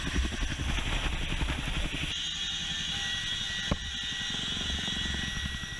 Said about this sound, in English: The helicopter hovers steadily in the air at the drop zone